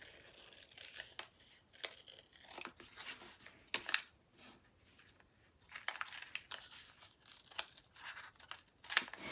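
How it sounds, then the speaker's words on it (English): Scissors cut through sheets of foam for espadrille soles, giving short crisp snips and crunchy shearing strokes in irregular bursts separated by brief pauses, close and fairly quiet, with no talk. "There's no way you can cut this foam on the fold, so just cut out one at a time."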